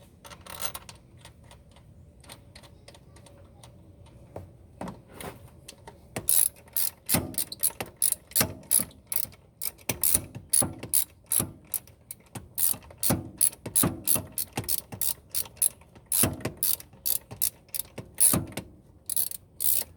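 A ratchet wrench tightens a throttle body bolt on a Toyota, first in a few quiet clicks and then in fast, loud bursts of ratcheting clicks close by, with short pauses between strokes.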